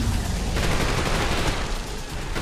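Sustained rapid gunfire in the video game Trepang2, a dense, loud burst of shots that continues for the whole stretch with only slight dips in intensity.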